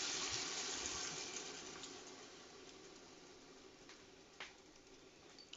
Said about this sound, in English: I'm now adding the wine because it looks all nice and sealed